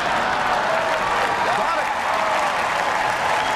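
Convention audience at the 2008 Republican National Convention applauding, a dense, steady wash of clapping from a large crowd that holds at even loudness throughout, with faint voices mixed in.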